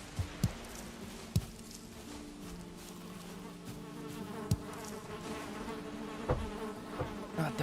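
Bees buzzing in the video game Valheim, a steady faint drone running throughout with a few sharp clicks and thumps scattered over it and no talking.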